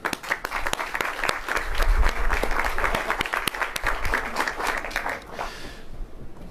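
Sustained applause from a crowd honoring elected officials at a public event, dense and steady clapping that swells then fades toward the end.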